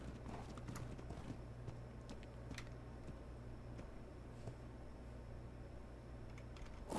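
Horse hooves clip-clop faintly in ARK: Survival Evolved, a few scattered soft taps over a quiet, steady background hum.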